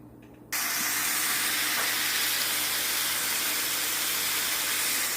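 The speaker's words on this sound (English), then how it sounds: "So I'm just going to toss the meat in there and add the seasoning and fry it up." Ground meat hits canola oil in a pan and erupts into a loud, continuous sizzle that holds steady to the end, cooked on a van stove for Thai pork fried rice.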